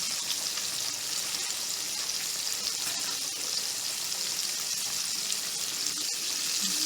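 Pork chops frying in a pan, a steady dense hiss and sizzle with faint pops, even and continuous throughout.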